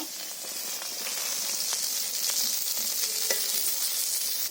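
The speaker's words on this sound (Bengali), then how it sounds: "মাছগুলো প্রায় ভাজা হয়ে আসছে," Katla fish frying in oil with a constant bright sizzle, scattered crisp pops and light scraping of a utensil, close and without speech.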